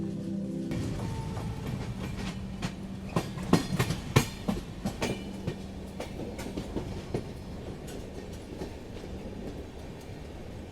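A passenger train on the long run from Dibrugarh, Assam, to Lalgarh, Rajasthan, rolls along the rails with steady rumble and irregular clicks and clacks of wheels over joints, heard from inside the carriage at moderate volume.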